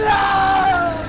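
A cartoon psycho screams madly while burning, one loud, sustained high-pitched yell that holds steady and fades slightly at the end.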